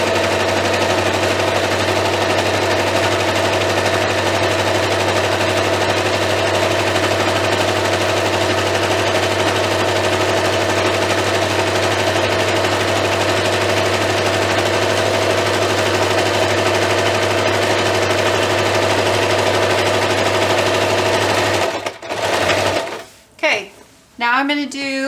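A sewing machine stitches robe fabric in a long continuous drone with a low steady hum and rapid needle chatter, then stops abruptly and gives way to a few clattering handling noises.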